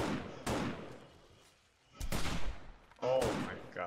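Three sharp, loud hunting rifle shots in a video game, spaced roughly a second apart, each cracking out and trailing off, with a voice talking over and between them.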